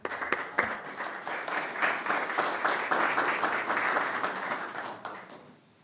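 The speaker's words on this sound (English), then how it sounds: "I would like a round of applause for our new hire." A city council meeting crowd applauds a new hire, dense clapping that swells quickly, holds steady for several seconds, then tapers off near the end.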